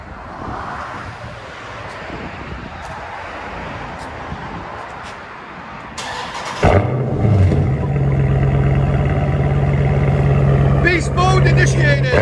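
A 2016 Dodge Challenger 392 HEMI Shaker Edition with dual straight-pipe exhaust bursts into a loud, deep rumble partway through, after a quieter stretch of background noise, and then holds at a heavy idle with a voice present.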